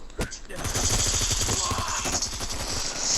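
Rapid automatic M4A1 rifle fire in the shooter game Bullet Force rattles in a dense, continuous burst at close range, loud and sustained across the whole stretch.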